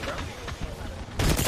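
Charge rifle gunfire in the video game Apex Legends, a dense rumbling blast of game fire and explosions that swells loudly near the end of a short burst.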